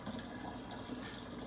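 Water draining out of a removed dirty filter basket during a filter change, a steady close rushing and trickling flow with no pauses.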